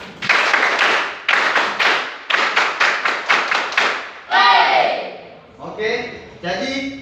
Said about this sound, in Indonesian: kita kasih yel-yel kita dulu seperti tepuk tangan 337